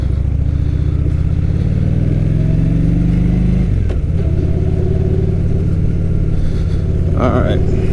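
A motorcycle engine runs loud and close, its steady drone swelling and falling in pitch as the throttle is revved, then settling back to a smooth idle with a brief higher burst near the end.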